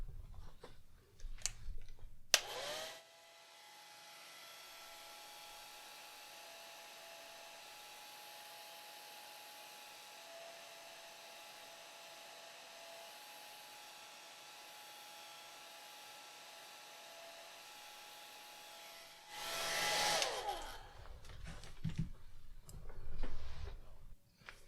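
A hair dryer blows steadily for about seventeen seconds to dry a watercolor painting of a baby goat, a loud continuous whir that starts and stops abruptly, with brief handling noises before and after.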